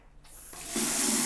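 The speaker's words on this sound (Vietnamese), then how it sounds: "Chúng ta xả nước vào xô phải không ạ?" Tap water runs into a small bucket during bathroom floor cleaning, starting as a soft trickle and swelling into a loud, steady hissing gush within about a second.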